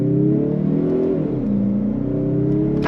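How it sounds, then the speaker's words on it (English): A 2024 Mazda CX-30 Turbo with a 6-speed automatic accelerates hard in sport mode, its engine note rising steadily, dipping at a smooth upshift, then climbing again, heard close from inside the cabin. "I have it in sport mode. Nobody's behind us, and I'm gonna go on throttle."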